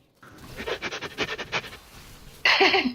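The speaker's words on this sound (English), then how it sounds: "I love the panting sound effects." Rapid rhythmic panting from a video game character, a run of quick breathy pulses close and fairly loud, ending in a brighter, louder burst of game sound.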